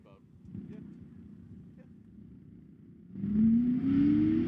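A V8-powered drift car at a pro drift series qualifying event revs up on track, a low engine rumble rising into a loud, climbing rev that holds near the end, with announcer talk in the background.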